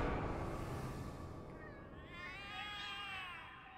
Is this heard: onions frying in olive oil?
no